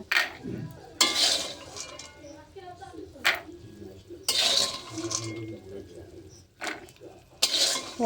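Metal utensils clink and scrape against a pan as fried peanuts are lifted out, in sharp irregular bursts close by, while a person talks throughout.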